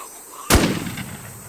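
A single sharp gunshot in the online survival shooter WarZ, loud and sudden, with a reverberant tail fading over about a second.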